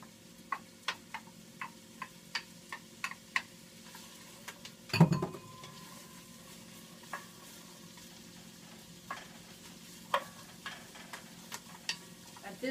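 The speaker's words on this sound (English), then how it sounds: "So I'm going to break the onions up with my spoon here a little bit" Onions and vegetables softening in a soup pot for lentil soup, with a quiet sizzle beneath a string of light, irregular clicks and taps from a spoon breaking them up and stirring, plus one louder knock near the middle; no talking.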